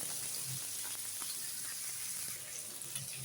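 King mackerel fries in a pan with a steady, close hiss of sizzling oil and a few faint pops, with no voices.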